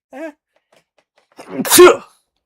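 A single loud sneeze with a sharp burst, preceded by a brief short vocal sound and a pause.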